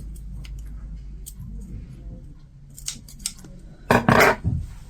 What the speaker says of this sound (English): I'm going to snip in, following that line there, I'm going to snip that bit.